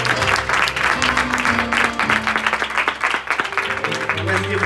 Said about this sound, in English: let's give her a hand as she comes forth.